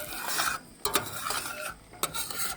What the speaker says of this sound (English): And just almost continually keep stirring so it's not burning.